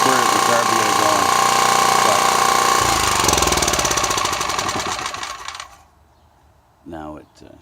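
Small gasoline engine on a water pump runs loud and steady, then cuts out and dies away, followed by a brief voice near the end.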